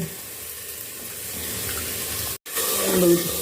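Water runs steadily into a cooking pot of potatoes being prepared for a rajma curry in a home kitchen, a continuous close splashing pour with a faint sizzle, briefly cut off before resuming.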